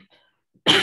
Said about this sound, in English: excuse me, I got a little cough.